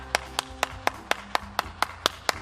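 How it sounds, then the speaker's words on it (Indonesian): Children clap their hands for Super Kids in about ten sharp, evenly spaced claps at a steady rhythm, close and clear, with a faint low hum beneath. "oke tepuk tangan dulu dong buat Super Kids"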